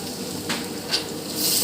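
Ginger and garlic being sautéed in a pan for Kashmiri chicken, a steady soft sizzle with a couple of brief stirring scrapes, close and moderately loud, no voices.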